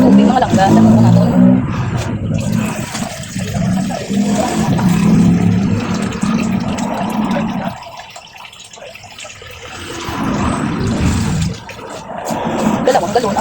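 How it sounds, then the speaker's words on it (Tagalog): Water runs steadily into a pot for several seconds, with a brief pause midway, while someone talks nearby. "lagyan natin ang tubig"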